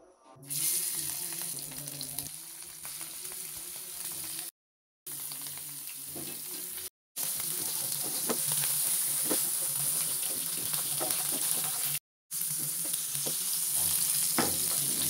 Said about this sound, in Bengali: এখন সেই হলুদ ও লবণ দিয়ে মাখানো মাছগুলো আমি ভেজে নেব।